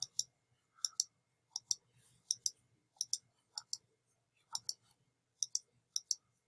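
A computer mouse clicks about a dozen times in a quiet room, crisp close single and double clicks at an irregular but steady pace.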